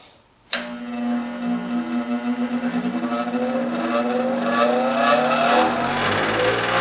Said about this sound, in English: I match the edge that I'm going to grind with the grinding wheel, and then I just raise it straight up.